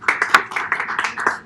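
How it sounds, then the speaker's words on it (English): A short burst of audience clapping at a live radio show at Disney's Animal Kingdom Lodge, a crowd's hands patting unevenly and continuously, moderately loud, with no voices over it. "Round of applause."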